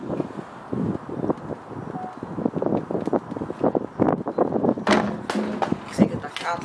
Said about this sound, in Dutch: Ik zeg dat gaat niet door die stomme wind.